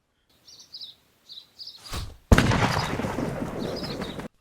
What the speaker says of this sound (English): we hear the gunshot after the deer is hit